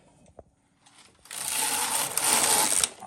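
An HK-160 knitting machine carriage is pushed across the needle bed, a loud rattling mechanical run of about a second and a half after a few small clicks and a quiet pause.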